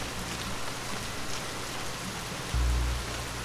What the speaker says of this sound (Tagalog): biglang bumagsak ang malakas na ulan sa gubat